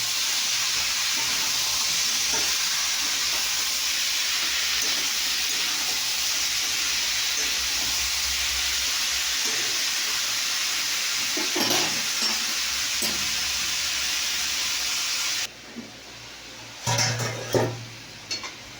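Salt and turmeric fry in a pan with a steady, loud sizzle and hiss that runs long, then drops away near the end as a few clinks and stirring knocks follow.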